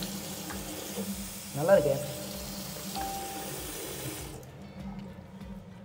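A tap runs steadily in a house in Chennai, a low, continuous hiss of water at moderate distance, while a person speaks briefly over it.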